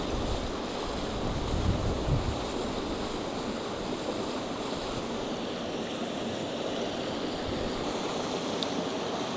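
Wind gusts steadily across a microphone beside a river while tenkara fly fishing, a constant low rushing roar with faint water wash underneath and no talk.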